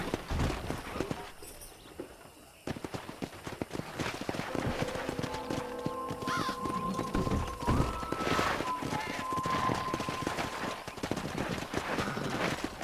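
Steady clip-clop of horse hooves in Red Dead Redemption running continuously, with occasional snorts and ambient noise mixed in, moderately loud throughout.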